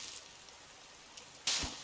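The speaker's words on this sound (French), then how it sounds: "Il arrête pas de pleuvoir." Steady rain falls in the survival video game The Forest, a soft continuous hiss with a sudden louder gust of noise near the end.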